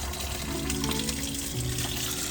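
Hot water runs steadily from a faucet into an RV sink after a tankless water heater swap, a continuous close splashing rush that fills the whole moment without pause.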